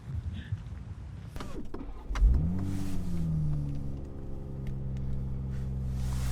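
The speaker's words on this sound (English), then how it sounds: "we are going to go take a trip in our press car, which is this sporty little wonder" A sporty press car starts off and accelerates, its engine note rising in a smooth climbing pitch after some initial clunks and rustling, then holding a steady, moderately loud drone.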